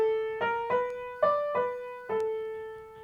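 Piano playing two bars of a simple beginner piece: five separate notes struck at an unhurried pace, each ringing clearly and decaying, close and alone.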